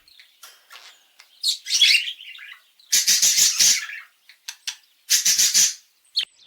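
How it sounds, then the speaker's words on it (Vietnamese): Loud, close parrot calls: harsh squawks and shrill whistles in uneven bursts with short pauses between them, alone without any talking. "Parrot."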